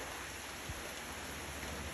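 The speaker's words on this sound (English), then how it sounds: "Welcome, rainy season." Rain falls at the start of the rainy season as a faint, even hiss of drops on surfaces, continuous and distant with no voices.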